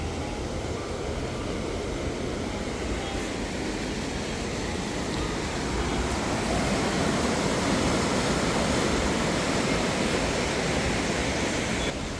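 Steady, loud rush of flowing river water at a 1930s hydroelectric power project, a continuous broadband roar without breaks that swells slightly midway and carries no voices.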